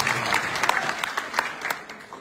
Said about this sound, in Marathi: एकदा टाळ्या आपण त्यांच्यासाठी वाजवतो